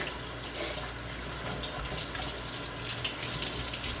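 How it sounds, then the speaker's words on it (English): Hands being washed under a running kitchen tap while making dinner, a steady broadband hiss of flowing water with slight splashing, fairly close and continuous throughout, no talking. "Let's clean my hands again."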